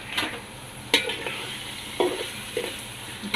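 Rice and lentils stir-frying with onions and chillies in a pan for a khichdi-style dish, a steady close sizzle broken by several sharp scraping stirs at irregular intervals, no voices.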